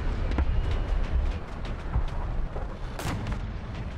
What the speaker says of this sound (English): Some guy near me is getting abused by an autocannon.